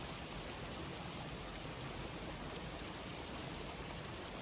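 An ice-cold stream rushes along in an outdoor spot near Gapyeong, Korea, producing a steady, even wash of flowing water with no breaks, constant and moderately quiet throughout.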